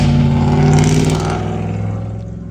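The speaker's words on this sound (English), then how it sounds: "don't mind that stupid ass lifted truck, bro" Lifted truck rumbles past close by, a loud low engine drone that swells then fades as it moves away.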